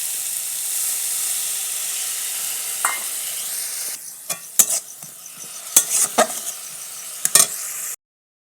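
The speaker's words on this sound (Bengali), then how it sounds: "খুব ভালোভাবে এবার এই মশলাগুলো আমি ভেজে নেব।" Dry chili powder and cumin powder frying in a pan for a potato curry, with a steady close sizzle and hiss under bursts of spoon scraping and stirring clatter.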